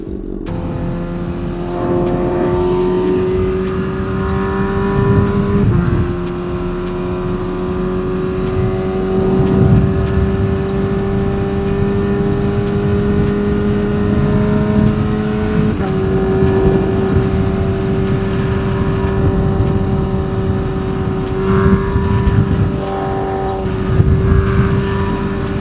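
A motorcycle rides along the road with a loud, continuous engine drone whose pitch steps up and down through gear changes, along with wind noise.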